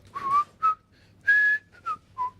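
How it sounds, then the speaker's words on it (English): A person whistles a short tune in clear, bright phrases, six separate melodic notes and runs over about two seconds, close and fairly loud with no talking. "I'm going to be whistling that all day."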